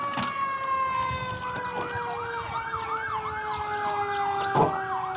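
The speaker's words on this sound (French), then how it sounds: "Au son des sirènes" Emergency vehicle sirens wail during a staged police and firefighter drill at a high school, a steady rising-and-falling siren that is clear and fairly distant over a noisy outdoor background.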